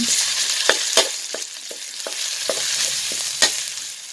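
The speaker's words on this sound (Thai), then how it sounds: "ตามด้วยพริกแกงกับกะปินะคะผัดให้หอม" Curry paste and shrimp paste sizzle in hot oil in a pan while being stir-fried for a spicy catfish dish, a steady frying hiss punctuated by sharp scrapes and taps of the utensil against the pan, with no talking.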